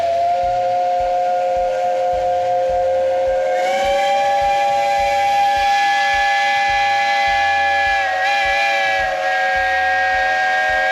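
A paddle steamer's steam whistle sounds one long, loud, sustained blast on a river, steady and harmonic, with a slight waver in pitch toward the end and a hiss of steam behind it.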